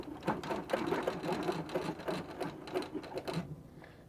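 A sewing machine stitching a baby quilt runs in a quick rapid chatter, close and moderately loud for about four seconds before easing off at the end, with no voices.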